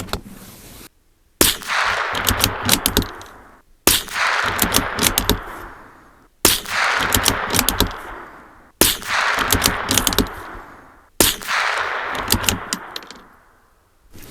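Five loud, sharp shots from a .22LR rifle firing Thunderbolt ammunition at a 100-yard target, evenly spaced about two and a half seconds apart, each a close crack trailing off into a brief echo, with no talking.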